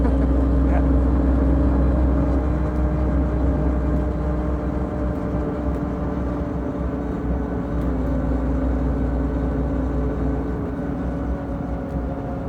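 Jay Leno's heavy tank car runs with a loud, steady low engine drone that holds continuously, without clear shift breaks, with faint cabin ambience.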